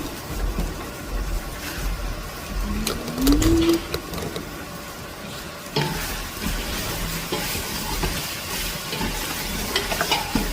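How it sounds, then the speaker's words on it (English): Beef browning in a saucepan, a steady close sizzle with occasional stirring scrapes and clinks, no talking. "The saucepan is browning, meaning the meat is browning too."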